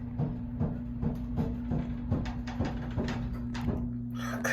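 A small home elevator creaks and rattles as it rides between floors, giving a series of regular clunks and creaks about every half second over a steady low motor hum.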